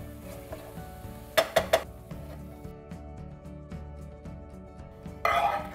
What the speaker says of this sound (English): now it's time to take it off the heat and plate up